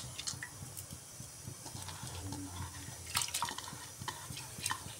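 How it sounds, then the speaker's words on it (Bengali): Washed red lentils tipped into water in a cooking pot, giving a soft, steady watery sloshing with small splashes and drips over about five seconds, moderately close and without any talking. "এবার এর মধ্যে ধুয়ে পরিষ্কার করে রাখা মসুর ডালটা দিয়ে দিচ্ছি।"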